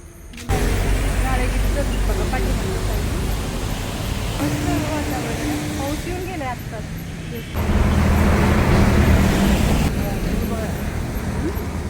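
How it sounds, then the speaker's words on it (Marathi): A car passing on a road at night in Kerala, a loud rushing engine and tyre roar that swells around the middle and again near the end, with people talking over it. "पण इथे गाडी येतात की हो आलं ती गाडी"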